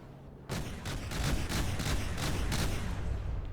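Rapid bursts of a flak CIWS gun in From The Depths, starting abruptly after a brief quiet moment, then pounding out a fast, even stream of loud shots that carries on to the end.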